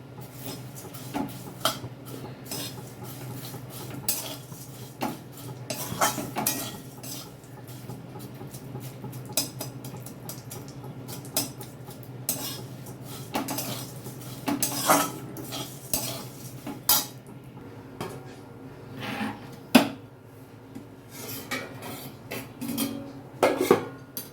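Flattened rice frying in ghee with sugar is stirred in a pan, with irregular scraping and clinking strokes of a utensil against metal, close and moderately loud, with no talking.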